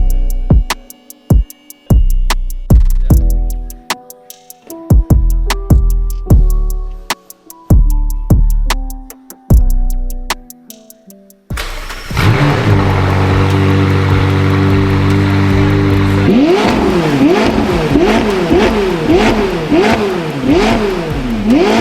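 A McLaren 570S with a Stage 2 tune and a new lightweight aftermarket exhaust revs hard, its engine note rising and falling repeatedly, loud and close, after a stretch of struck musical notes.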